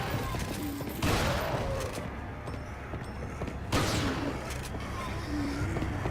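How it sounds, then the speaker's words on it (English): Shotgun blasts in the video game Resident Evil 4: two loud, booming shots a few seconds apart, each with a long decaying tail over game background noise. "Shooting you guys with a shotgun"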